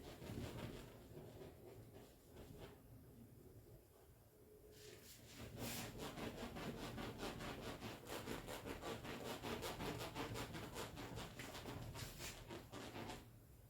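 Chalk or duster rubbing across a classroom board, a steady scraping and scrubbing that runs through most of the clip, strongest in the second half, with no talking.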